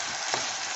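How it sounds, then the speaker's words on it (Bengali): Finely chopped potato pieces fry in a hot pan for rava upma, giving a steady, even sizzle with one faint stir scraping briefly in the middle. "আর এইগুলো একটু ভেজে নরম হয়ে যাবে"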